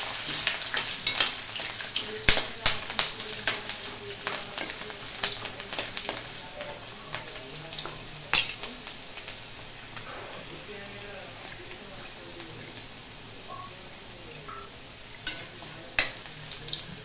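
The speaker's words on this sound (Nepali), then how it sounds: "अब आलुलाई चाहिँ एकदम राम्रोसँग चलाएर एकछिन चाहिँ राम्रोसँग भुट्दैछु" Cut potatoes fry in a pan while being stirred, close sizzling broken by sharp scrapes and clatters of the spoon that ease off toward the end, with a person talking over it.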